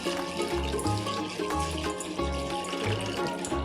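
One bowl of sago pearls being washed by hand in water, with rhythmic sloshing and swishing of water that pulses several times, close and fairly loud.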